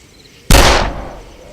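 An old rifle fires once in a video game: a single loud, close blast with a sharp attack and a tail that rings out and fades over about a second.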